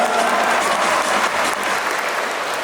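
A crowd applauding steadily, dense clapping that stays loud and even throughout.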